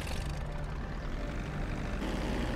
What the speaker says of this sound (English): landing plane number two